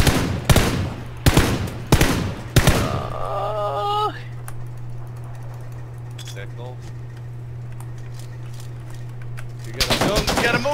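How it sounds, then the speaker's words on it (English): Gunfire in a battle royale video game, several sharp shots in the first few seconds, then a steady hum with faint game sounds, and another burst of shots at the end. "Dylan, he's gonna get a headshot"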